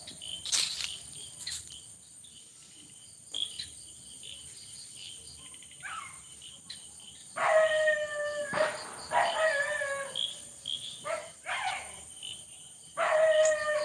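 Dogs howl in drawn-out wavering cries, several bursts in the distance, over a constant high insect chirr in a quiet night amid Onam fireworks and firecrackers.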